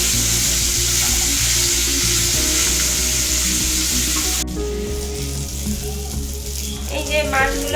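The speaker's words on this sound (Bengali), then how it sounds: "এই যে মাছগুলো ভাজা ভাজা হয়ে গেছে, একদিকটা ভাজা হয়ে গেছে, আর একদিকটা ভাজা হলে আমি তুলে নেবো।" Fish pieces for doi rui fry in hot oil, a loud close sizzle with stirring clatter that drops sharply partway through to a quieter crackle and a few utensil knocks.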